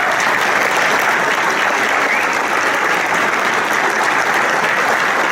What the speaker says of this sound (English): a big round of applause for Kathy and